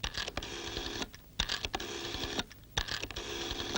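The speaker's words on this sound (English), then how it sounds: "Make for the nearest telephone, dial," A telephone is dialed to reach the Coast Guard in a 1970 public information film, with a run of clicking, whirring bursts separated by short pauses, close and fairly quiet.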